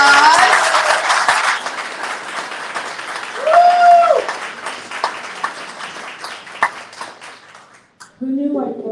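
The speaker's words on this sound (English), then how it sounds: "let's give our speaker guest a round of applause." Audience applause for a guest speaker at a book presentation, a loud sustained wash of clapping from a crowd that tapers off, with a voice speaking briefly at the end.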